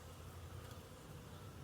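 A faint, steady drone of many bees buzzing together in a new hive, low and continuous without pauses.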